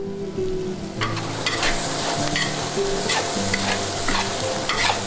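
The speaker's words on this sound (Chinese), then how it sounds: "就跟炒菜要爆香一样啊" Shallots and small dried shrimp stir-fried in a wok for Taiwanese zongzi filling, loud sizzling with repeated scraping stirs of the spatula in a busy kitchen.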